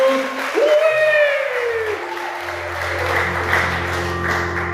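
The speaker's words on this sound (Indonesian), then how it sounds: "Tepuk tangan buat Tuhan Yesus." A church congregation claps together in sustained, dense applause that fills the room, with a sliding tone and a low hum underneath.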